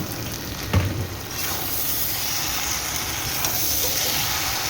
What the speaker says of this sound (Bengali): এখানে অর্ধেক সবজি ভাজা হচ্ছে এখানে অর্ধেকটা ভাজছি ফুলকপি হয়ে গেছে